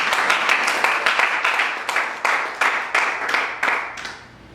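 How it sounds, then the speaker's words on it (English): A smaller audience at a lecture in Tuscaloosa claps in a loose, uneven rhythm, with separate sharp bursts that thin out and fade over a few seconds. "So can we give them a round of applause?"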